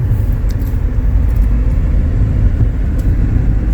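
A BYD Sealion 6 on a test drive produces a loud, continuous low rumble of road and cabin noise at a steady level, with faint brief ticks over it and no talking.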